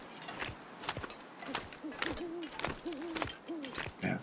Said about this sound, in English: They have owls there. They have some nice ambiance noises.